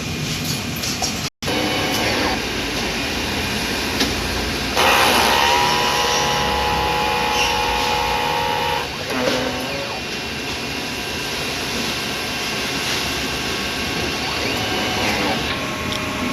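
A DTF printer running a print head clean: a steady loud mechanical whir and hum throughout, with a brief cutout early on and a shift in pitch partway through as the cleaning cycle changes.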